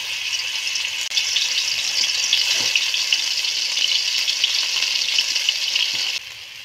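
A ground paste of green chilli, garlic and cumin frying in hot oil, a steady bright sizzle close by with a few faint scrapes, cutting down sharply near the end.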